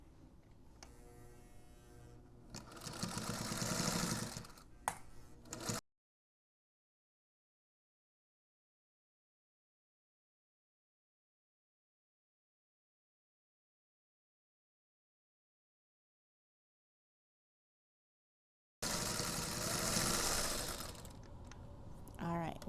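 A sewing machine stitches a quarter-inch seam on an adjustable bag handle in two loud, buzzing runs, several seconds each, separated by a long stretch of silence.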